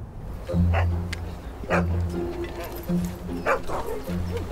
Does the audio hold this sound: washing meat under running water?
no